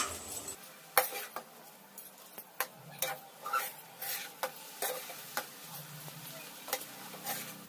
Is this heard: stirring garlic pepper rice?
yes